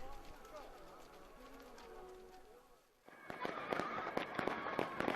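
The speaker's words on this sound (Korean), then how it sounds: "강계광장에서는 불꽃놀이가 진행돼서 명절 분위기를 더욱더 고조시켰습니다." A voice talks over background music at first, then a dense barrage of crackling, popping bursts erupts at a holiday fireworks display in Kanggye Square, loud and continuous.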